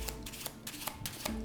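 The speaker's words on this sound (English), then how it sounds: "I'm gonna shuffle these back in the deck" A deck of playing cards is shuffled close up, quick crisp riffling flutters in several short bursts over a second and a half.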